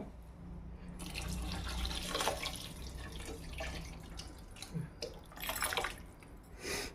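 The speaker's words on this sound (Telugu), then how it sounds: "2 చెంబులు నీళ్ళు పోసుకుంటున్నాను" Water pours in a steady splashing stream into a pot, then trickles and splashes in short bursts with dripping, close by and without voices.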